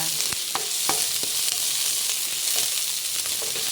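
Chicken fries in olive oil with garlic, onion and ginger, a continuous close sizzle broken by repeated light taps and scrapes of a spatula against the pan.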